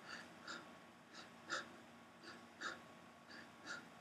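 A voice imitates the labored, shallow breathing of a gravely ill, emaciated woman: about eight short, raspy breaths in a steady rhythm, some wheezy, alternating in and out, fairly quiet and close with no talking.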